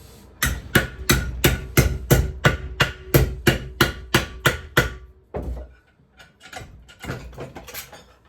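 A hammer taps a bent number plate light bracket clamped in a vise while fixing the lights on a Mazda MX-5 Mk1. About a dozen sharp, evenly spaced metallic strikes ring out up close, then give way to quieter handling clatter.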